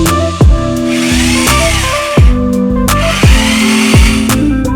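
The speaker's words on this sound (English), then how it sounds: "to do the cutting, I'll be using a fancy schmancy electric jigsaw" An electric jigsaw cuts through wood close by in loud, sustained bursts of buzzing, with short pauses and changes in pitch as the blade follows a curved outline. No one speaks.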